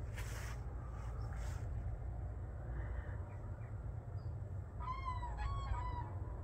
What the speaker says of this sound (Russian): где-то сидят в одном месте и кукарекают